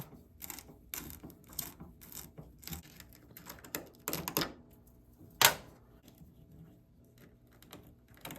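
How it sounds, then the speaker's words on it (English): Phillips screws being backed out of a cargo light on a 1990s Ford Ranger, giving a quiet run of small ratcheting, clicking mechanical sounds with one sharper click, close up with no talking. "It's just 2 Phillips screws on each side. We're going to remove them."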